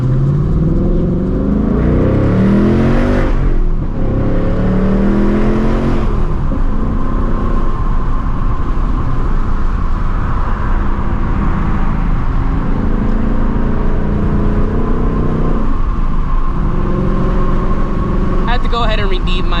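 A 2024 Ford Mustang GT running on E85 fuel rumbles loudly and steadily, rising in a couple of revs early on, with a deep, throaty exhaust tone throughout.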